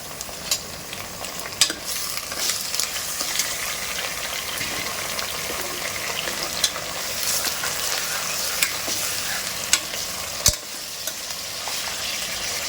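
Steady, dense sizzling of mutton frying with onions in a pan, continuous and fairly loud, with occasional clicks and stirring scrapes.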